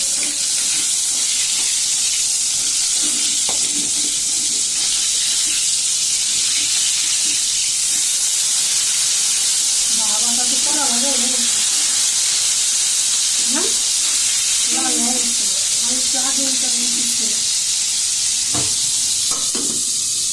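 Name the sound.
rohu fish frying in a pan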